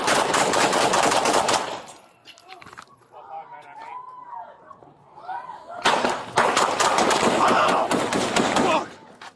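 Gunfire in a police shootout, sharp rapid shots in dense bursts at the start and again near the end, with a quieter stretch of shouting voices between them.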